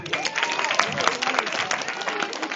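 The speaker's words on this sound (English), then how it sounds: "Clap your hands if you're doing good." An audience at an evening event claps together in a dense, sustained burst of applause, many hands at once filling the room, with some voices mixed into the noise.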